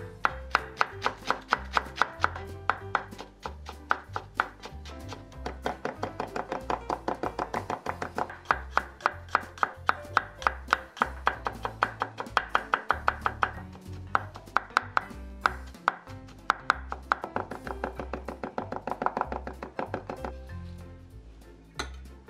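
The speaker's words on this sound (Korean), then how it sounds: "제일 먼저 대파 마늘부터 다져 볼 건데요." Rapid, steady knife strokes on a cutting board mince green onion and garlic, a close, evenly paced run of crisp chops that continues with brief pauses throughout.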